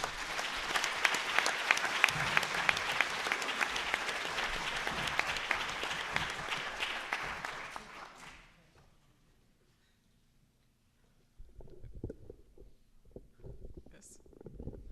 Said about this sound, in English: So let's give Rebecca a big applause.